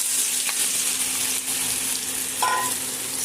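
Cut pointed gourd and potato fry in oil in a wok, a steady close hiss with a few brief clinks and scrapes of stirring, heard alone without talk.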